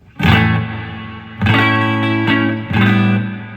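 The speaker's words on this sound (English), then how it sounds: "Let's throw some reverb on it." An electric guitar played through a Joyo Bluejay Bantamp with the bright switch on and reverb added rings out in three strummed chords, each sustaining and decaying into a lush wash, loud and close with no voices.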